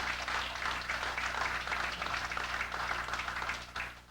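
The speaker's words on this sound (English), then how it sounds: "Let's give Nia another round of applause." Audience applause at a fire department regionalization discussion, a steady wash of many hands clapping for about four seconds before trailing off, with no voices over it.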